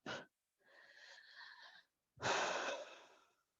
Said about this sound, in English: take a few deep breaths, breathing in and out, filling ourselves up